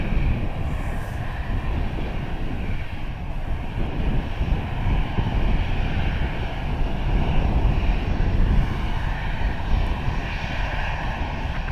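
An Airbus A320 at Dublin Airport gives off a steady, loud roar of jet engines that holds at an even level across the whole stretch, with no voices.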